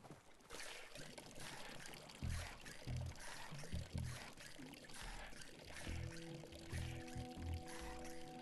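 Water pouring and splashing in the video game Wasteland Life, near a polluted river, with sloshing bursts and a low tonal hum building toward the end.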